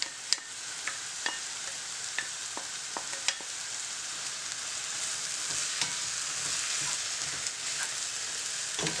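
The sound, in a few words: mushroom and pepper filling frying in a pan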